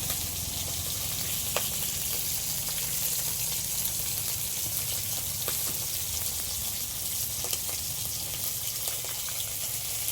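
Curry leaves sizzle in hot oil in a frying pan, a dense continuous crackling hiss with scattered sharper pops, close and steady throughout.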